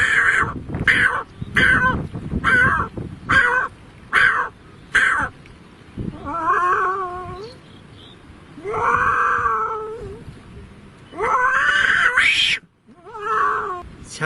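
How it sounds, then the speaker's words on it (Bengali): A cat meows repeatedly, first in a quick run of short loud cries, then in longer drawn-out wailing calls, close and clear with brief pauses between them. "বিড়াল কিভাবে ডাকে? বিড়াল ডাকে ঠিক এভাবে।"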